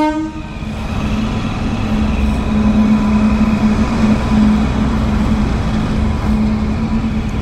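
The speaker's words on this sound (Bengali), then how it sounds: "দেখতে পাচ্ছ ট্রেন যাচ্ছে।" A train rumbles steadily across the rail line on Farakka Barrage, a loud continuous roar with a low droning hum throughout, no voices over it.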